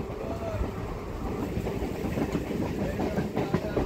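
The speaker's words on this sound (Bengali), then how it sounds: "আর তারই ভেদ করে আমাদের ট্রেন ছুটে চলেছে টাকির উদ্দেশ্যে।" A train runs through green countryside on cloudy, drizzly morning toward Taki, near the India–Bangladesh border, making a continuous rumbling roar with faint rhythmic clatter, steady and moderately loud.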